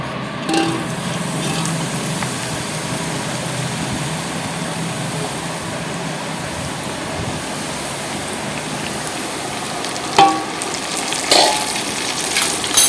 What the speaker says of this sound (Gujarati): તેલ ગરમ પણ થઈ ગયું છે અને હવે કરી નાખી વઘાર